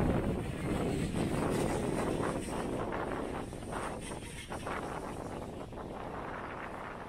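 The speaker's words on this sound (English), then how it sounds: "It's windy for sure, and this drone, remember, weighs less than 250 grams" Strong wind gusts over the Hudson River roar and buffet a DJI Mavic Mini drone microphone as it hovers, a loud continuous rumbling rush that eases slightly over the seconds, with no voices.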